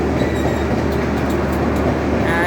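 Jan Shatabdi Express passenger train rumbling close by on a Kolkata–Lucknow route, a loud, steady roar of rolling wheels and carriages that continues without a break, with no voices.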